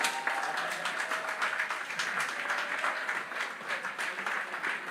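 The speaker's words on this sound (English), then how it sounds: "another round of applause for Brother Brian Charles." Applause from the audience at a teachers' union annual conference in Grenada, a dense, steady wash of many hands clapping, moderately distant and unbroken.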